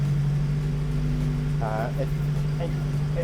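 An Audi Coupé S engine runs at fast idle with a steady low drone and a constant hum. Someone speaks briefly over it.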